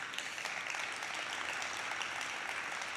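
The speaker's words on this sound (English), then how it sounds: "Thank you for the applause" Steady, dense applause from a conference audience at the opening of the World Conference on Creative Economy 2021, filling the whole stretch evenly with no voices over it.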